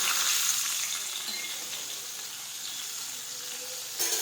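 Ginger and chili are tempered in hot oil for urad dal, producing a steady, fairly loud sizzling hiss that fades slightly, then a brief louder burst at the end.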